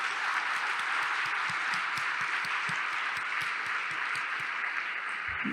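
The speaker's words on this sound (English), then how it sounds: "please join me in applauding." Audience at an awards dinner applauding donors, steady even clapping from a large room, fairly distant and uniform for the whole stretch.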